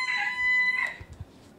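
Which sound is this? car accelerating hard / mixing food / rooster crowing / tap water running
rooster crowing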